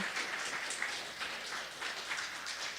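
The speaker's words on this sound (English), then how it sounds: "And let's give them a round of applause." A conference audience applauds at the end of a session, a dense, even wash of clapping heard at moderate distance with no talk over it.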